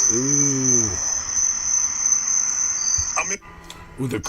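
Crickets chirping indoors during a live stream, a constant high, steady trill running through most of the clip, with a few brief louder sounds and knocks near the end and no speech.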